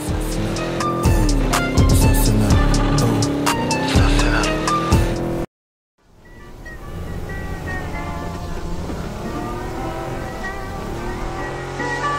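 A car drives in the PUBG video game with a loud, steady engine roar and tire noise alongside music, cutting to a brief silence before a quieter, sustained driving drone resumes under a faint musical bed.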